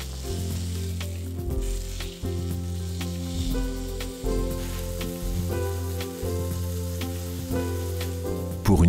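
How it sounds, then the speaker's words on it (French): Meat sizzling as it fries in a cooking pan, a steady close crackle and hiss running throughout with light stirring or shifting sounds and no talk. "Attendez 10 secondes et disposez la viande dans l'ustensile de cuisson."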